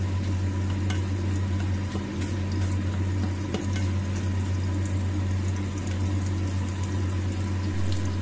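Garlic and onion sizzle steadily in melted butter in a pan, with a constant low hum underneath and occasional stirring clinks, close and continuous throughout.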